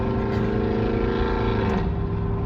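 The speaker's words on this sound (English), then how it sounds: "by having a really loud, annoying truck." A loud truck engine idles and rumbles steadily nearby with a droning, throaty tone that holds throughout, no talking.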